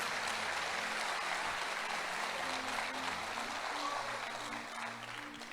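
A church congregation claps in a dense, continuous wash of applause that holds steady and then eases slightly near the end, with musical tones sounding underneath.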